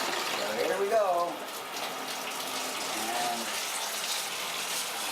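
Water running from a laundry washer supply line fitted with an ozone generator, a steady rushing flow under a brief spoken word.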